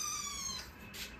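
A person's voice imitates a cat's meow, producing a short, quiet, whiny squeak with a high tonal line lasting about a second.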